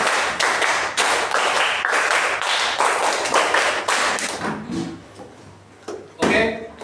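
A class of schoolchildren claps a rhythmic pattern on cue in a classroom, loud bursts of hand claps in quick sequence, followed by a pause and a final short burst of clapping.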